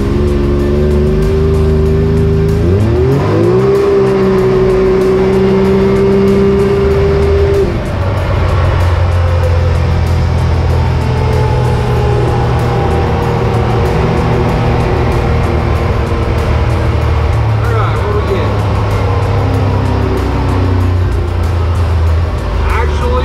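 A Can-Am X3 side-by-side with Stage 3 parts and tune, in two-wheel drive on a flat surface, accelerates hard, its engine roaring loudly and climbing through rising revs as voices talk over it.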